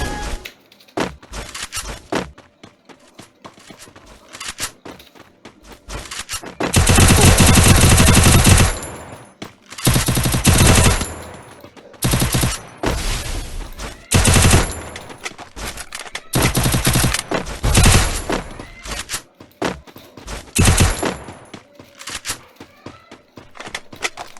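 Loud automatic gunfire from the Free Fire shooting game comes in repeated bursts, some long and sustained and others short, with brief pauses and quieter game sounds in between.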